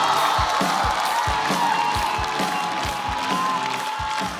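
A studio audience at a stand-up comedy competition cheers and claps as a comedian walks onto the stage. The crowd noise is loud and continuous, with whoops over steady applause.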